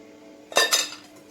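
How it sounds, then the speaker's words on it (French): A whisk clinks twice against a bowl as an egg, sugar and cornstarch mixture is beaten into lemon. The two sharp metallic taps are close together over quiet background. "Je fouette tout le temps"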